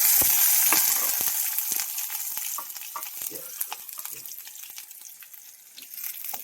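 Hog plums and curry leaves dropped into hot oil with mustard seeds for a hog plum pickle, crackling and sizzling loudly at first, then settling into a softer popping fry.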